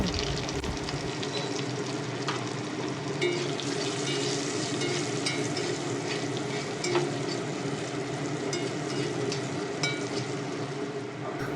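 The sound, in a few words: potato pieces frying with turmeric and salt in tempering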